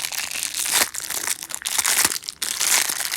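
Close, loud crinkling and crushing of a plastic wrapper as a fidget toy package is torn open, continuous with brief dips.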